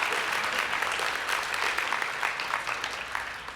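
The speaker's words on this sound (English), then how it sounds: "Give yourselves a huge round of applause." Dense applause from a large convention audience at an opening ceremony, a steady wash of many hands clapping at once that holds loud and even throughout and tapers slightly toward the end.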